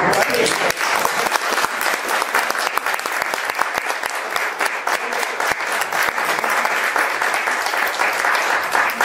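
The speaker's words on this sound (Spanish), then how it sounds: "Un aplauso." Dense, steady applause from an audience at a tribute ceremony in the Villaviciosa town hall, continuous and loud for the whole stretch with no voices standing out.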